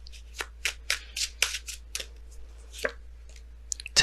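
Tarot cards are shuffled and drawn by hand, a series of crisp riffling flicks and snaps in irregular bursts, close and fairly quiet with no voice.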